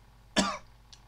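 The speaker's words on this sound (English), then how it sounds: "That wasn't a fun cough." A single sharp, loud cough from a man, bursting out and trailing off within a fraction of a second against a quiet background, followed by a faint small sound.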